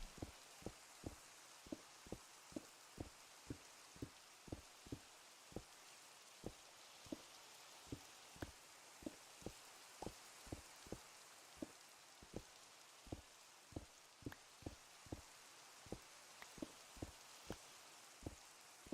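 Rain in Minecraft patters faintly under a steady hiss, with heavy drips landing at a regular, evenly spaced beat throughout.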